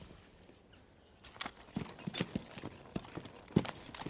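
A Kathiyawadi horse's hooves clip-clop on the ground in an uneven walking rhythm, the sharp close hoofbeats growing louder and more frequent partway through over a low outdoor hiss.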